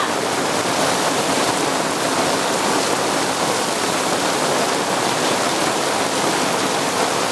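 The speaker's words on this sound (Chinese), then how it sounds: "这个还没弄好就下雨了，好大的雨啊！" Heavy rain pours down steadily in a rural village where rice is laid out to dry, a dense, loud and unbroken hiss of downpour filling the whole stretch with no voices.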